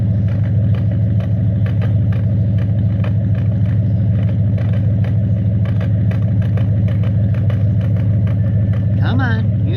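A car engine idles steadily with a frozen tailpipe and a possible misfire, a loud, continuous low rumble with faint rhythmic ticking throughout, heard close up.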